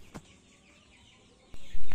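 KUB-2 chickens, 39 days old, cluck and murmur faintly in a barn, with a couple of sharp knocks and a louder rustle near the end.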